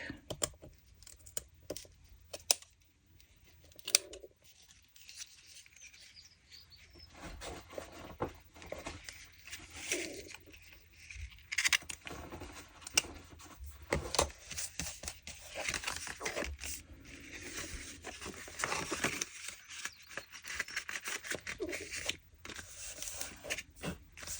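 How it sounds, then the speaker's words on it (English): Paper embellishment for a junk journal being trimmed with scissors, giving close, irregular snips, rustles and crinkles of handled paper throughout, with short pauses between cuts. "I think I may have to trim this a little bit to make this work"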